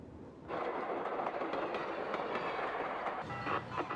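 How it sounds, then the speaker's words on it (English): An Alaska Railroad train heading north toward Denali rolls along the tracks, its steady rumble and clatter rising suddenly after a short quiet start and holding loud and continuous. "The Fairbanks train continues north toward Denali"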